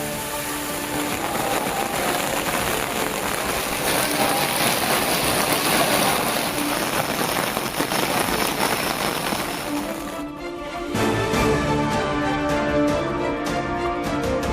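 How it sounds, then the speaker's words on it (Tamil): Heavy rain pours steadily at Tirupati, a dense continuous wash of water that stays loud throughout, briefly changing texture toward the end. "திருப்பதியில் 1 மணி நேரத்திற்கு மேலாக வெளுத்து வாங்கிய கனமழை."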